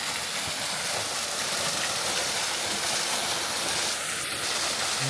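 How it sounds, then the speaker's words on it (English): A small waterfall in Australia, about ten metres high, gives a steady, dense roar of falling water. It is loud and close and continues without a break, and no one speaks. "Here's the waterfall."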